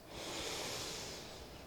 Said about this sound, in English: take a conscious breath in through your nose, breathing in as deep as you want